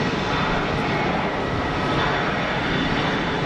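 An aircraft passes at Geneva Airport, captured on a Rode VideoMic Pro Plus shotgun microphone: a loud, steady, bass-heavy engine roar fills the whole stretch, with no voices.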